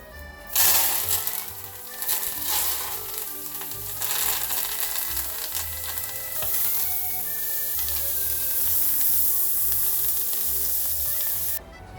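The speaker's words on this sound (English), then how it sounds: "And it's going to sizzle now." Vegetables for a vegan mushroom bourguignon with coriander sizzle loudly in a hot pan, a sharp burst of frying at the start settling into a steady crackling hiss that runs on with occasional stirring scrapes, no voices.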